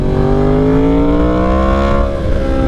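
A Yamaha R1 motorcycle fitted with an SC Project CR-T exhaust revs loudly and close by, its engine note holding a steady, harmonic-rich roar that climbs slightly in pitch across the short burst.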